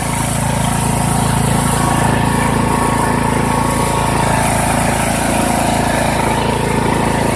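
Poulan Pro PP175G42 riding lawn tractor engine runs continuously, a loud, close, steady mid-pitched drone with constant mechanical buzz and no pauses.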